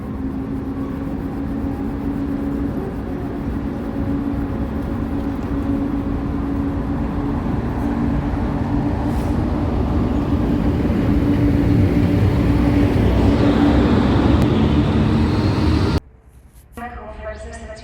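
An EP07 electric locomotive pulls the Wyczółkowski intercity train from Lublin out of Opole Główny toward Szczecin, a steady low rumble and motor whine building gradually before cutting off abruptly near the end.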